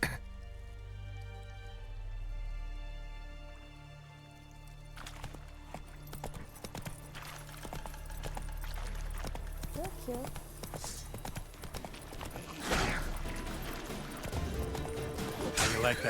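Horse hooves clip-clopping in a steady rhythm during a hunt ride, growing busier and louder partway through, with a voice speaking over the hoofbeats.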